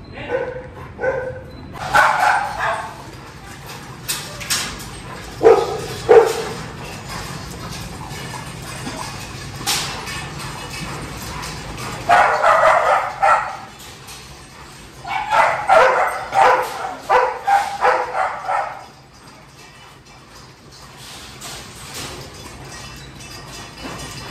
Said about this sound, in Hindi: थोड़ा भौंकता है, अकेला रहना पसंद नहीं है